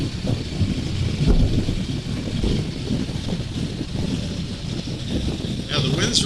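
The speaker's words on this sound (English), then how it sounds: "the wind's really picking up" Steady broadband wind rush buffets the microphone while riding a 2022 KTM 1290 Super Adventure R motorcycle on the road, loud and continuous throughout, with a voice speaking over it.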